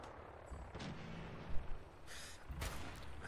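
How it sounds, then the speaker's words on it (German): A few scattered gunshots ring out in Fallout 4 as someone fires at the player, with sharp cracks spaced over a few seconds against a faint, muffled background. "Wer oder was schießt da auf mich? Schießt ihr da?"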